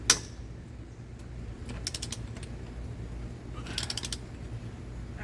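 A torque wrench serves as a breaker bar on lawnmower motor bolts, giving two quick runs of ratcheting clicks over a low steady hum, fairly quiet and close.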